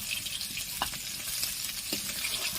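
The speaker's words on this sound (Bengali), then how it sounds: "এরকম ভাবে সব মাছগুলো ভেজে নিয়ে আমি আবার পরের থেকে ফিরে আসছি।" Pieces of rohu fish fry in hot oil in a pan, giving a dense, even sizzle with a couple of brief stirring clinks, close and unbroken throughout.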